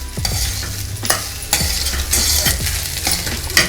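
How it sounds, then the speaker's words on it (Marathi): Maggi rice with masala is tossed in a sizzling pan, with a spoon scraping and clinking against the metal in quick, repeated strokes under a steady frying hiss, close and loud with no talking. "आता आपण सगळं व्यवस्थित मस्त मिक्स करून घ्यायचे। राईसला मसाला लागला पाहिजे।"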